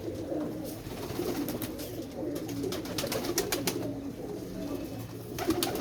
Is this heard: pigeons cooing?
yes